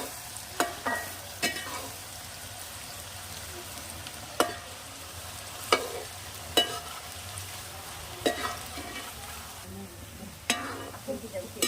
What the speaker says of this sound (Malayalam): ക്യാരറ്റ് ഒന്ന് പച്ചമണം പോയി ചെറുതായിട്ടൊന്ന് വഴന്ന് കിട്ടണം